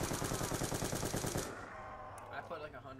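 Rapid automatic gunfire from a zombies shooter video game rattles in a dense burst for about a second and a half, then cuts off into quieter game noise and faint scattered sounds.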